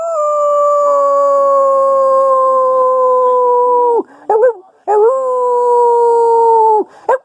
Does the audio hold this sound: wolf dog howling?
yes